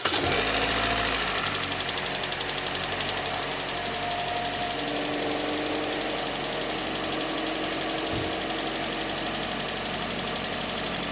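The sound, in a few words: cold start and knocking of Kia Sportage 4 engine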